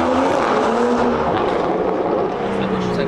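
A tuned BMW 235i engine roars steadily and loudly from inside the car while driving, with a sustained drone under the cabin noise and no clear break.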